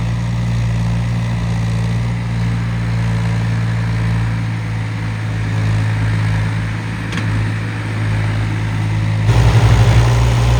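Tractor engine running steadily on a farm field of berseem, a continuous low idling drone with a slight surge in revving near the end, close and loud with no voices.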